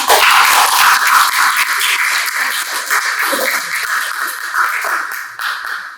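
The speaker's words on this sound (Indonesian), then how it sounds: "Kita berikan tepuk tangan untuk para penyaji." A school presentation audience applauds the student presenters, with loud, dense clapping that fills the room, fades slightly, then swells again before tapering off near the end.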